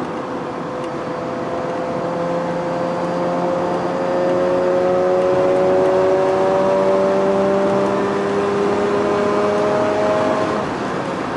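The rotary engine of a Mazda RX-8 is run up to high RPM, giving a sustained, climbing whine that gradually swells and then eases back, with no talk over it.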